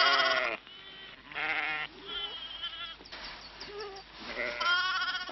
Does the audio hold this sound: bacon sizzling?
no